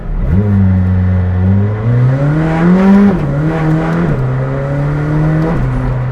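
A McLaren Senna's 800 hp engine revs hard nearby, its pitch climbing then dropping sharply at each gear shift, several clear upshifts in a loud, continuous pull with no talk over it.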